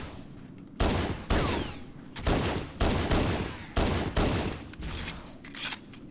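Bursts of small-arms gunfire from Marines in Halo CE Anniversary, about six separate volleys spaced roughly a second apart, loud and close, with no talking.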